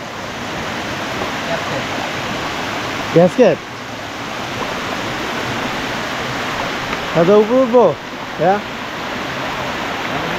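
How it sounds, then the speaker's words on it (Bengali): A waterfall on the Rondoyok trail near Thanchi, Bandarban, gives off a constant broadband rush of falling water, loud and steady throughout, while a few people briefly talk over it. "এটা হচ্ছে কি ঝর্ণা?"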